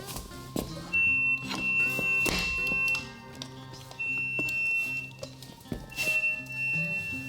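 Intermittent electronic beeps from a jon boat's control box while in gear, high steady tones that start and stop irregularly, close by, mixed with clunks and knocks of handling.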